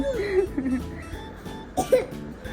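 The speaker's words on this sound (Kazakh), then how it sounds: "жөтеліп қапты ғой" A child coughs a few short times in a noisy room at a family birthday celebration, with voices chattering around it.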